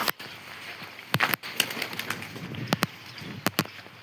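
A pigeon arriving and flying overhead, with several sharp, brief bursts of wing flapping scattered over a few seconds against a quiet outdoor background.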